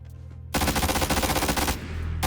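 Rapid bursts of gunfire from a shooter game in PUBG, loud and continuous for nearly two seconds after a quieter opening, with no talking over it.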